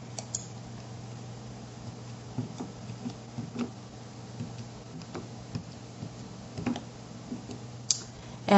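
A computer keyboard clicks as an answer is typed, with soft, fairly quick keystrokes in an irregular rhythm over a steady low electrical hum, close by and with no talking.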